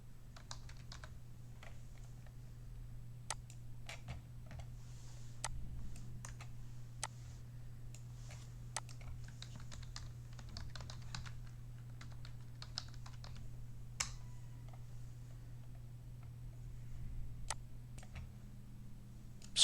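Quiet, close keystrokes on a computer keyboard, a steady run of light clicks with brief pauses, over a low constant electrical hum.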